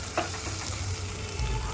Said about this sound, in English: So frying up those onions.